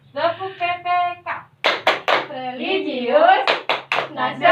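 Tepuk PPK clapping chant in a classroom, a voice chanting with sharp rhythmic hand claps punctuating the phrases, loud and close.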